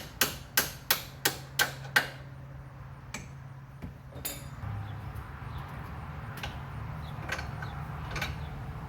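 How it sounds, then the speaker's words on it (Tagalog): Six sharp metallic hammer blows in an even, quick rhythm knock out the lower strut mounting bolts on a 2015 Mitsubishi Lancer, followed by a few scattered clanks and light tool rattles in a quiet garage. "gently hammer out the lower mounting bolts"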